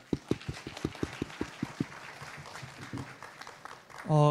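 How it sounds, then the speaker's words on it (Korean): Audience at a labor law symposium clapping for session participants: a sparse, rhythmic run of about a dozen separate claps, then a softer scattered patter, with a brief voice at the end. "다시 한번 수고해 주신 분들 위해서 큰 박수 한번 부탁드리겠습니다."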